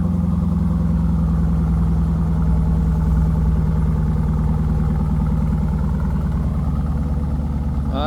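Dodge Durango R/T engine fitted with a Mopar Performance exhaust, idling with a steady, deep rumble held close and loud for the whole stretch, with no talking over it.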